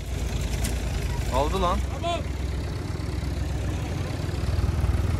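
Tümosan and Enter tractor engines run low and steady in a forest, a continuous rumbling idle that carries throughout while people talk briefly over it.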